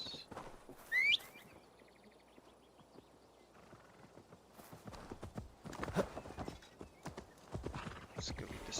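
Horse hooves in Assassin's Creed Valhalla clip-clop in a steady trotting rhythm, with a whinny and scattered bird calls, while a person talks over the game sounds.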